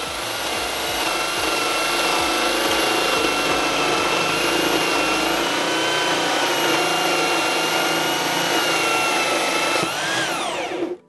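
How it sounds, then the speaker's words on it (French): A power drill fitted with a hole saw grinds steadily through wood, a loud continuous whine with rasping cutting texture that slows and winds down as the cut finishes near the end. "il s'agit de bien maintenir la perceuse et on y va doucement"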